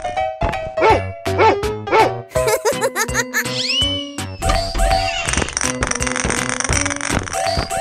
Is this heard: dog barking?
yes